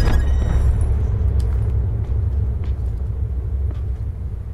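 A vehicle engine in the Call of Duty: Black Ops 4 Blackout battle royale mode gives a steady, loud low rumble that holds through the whole stretch with little change.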